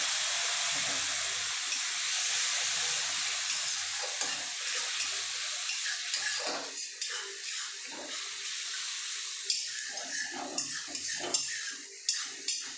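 Chickpea curry in a hot pan hisses and sizzles loudly after a splash of hot water, a steady bubbling roar with scattered spoon scrapes and stirring clinks toward the end.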